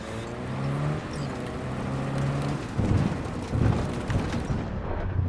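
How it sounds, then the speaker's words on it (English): Cyberpunk 2077 thunderstorm, with steady rain hissing over a low car engine hum, then deep rumbles of thunder rolling in midway and swelling again before fading. "That is one hell of a storm!"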